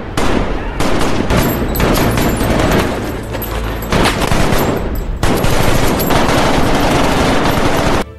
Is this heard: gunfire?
yes